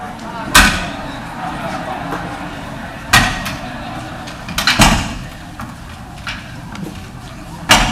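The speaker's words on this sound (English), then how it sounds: "Oh, Ms. Cox, would you mind closing doors?" Doors being shut in a town council meeting chamber, heard as a series of sharp, loud thuds and slams spread over several seconds against a low room murmur.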